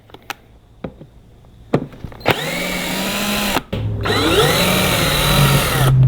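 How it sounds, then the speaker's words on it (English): A few sharp clicks and taps, then a power drill driving out screws on a Honda CRF230F dirt bike whirs loudly up close, pauses briefly, and spins again with a rising whine. "since I'm feeling lazy and I got a power tool, I'm going to use this drill"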